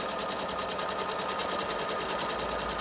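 A Tugi Premio 73 sewing machine stitches a buttonhole, giving a continuous, rapid, evenly pulsing needle hum that stays close and loud throughout.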